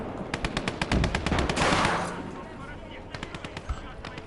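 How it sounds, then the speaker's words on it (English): Rapid bursts of gunfire strike a tank during a Call to Arms: Gates of Hell battle on the Eastern Front, the repeated sharp cracks and pings coming in quick rhythmic volleys over a rumbling combat background, with a voice speaking alongside. "Shots are bouncing off it, which is beautiful."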